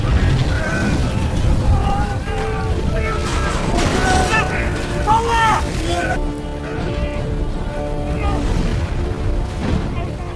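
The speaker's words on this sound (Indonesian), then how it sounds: "disertai dengan ledakan-ledakan yang tak kunjung usai." Loud, continuous rumbling blasts and crashes from a tower fire in the 2012 film The Tower, with a dense roar underneath and scattered sharp tonal effects layered over the din.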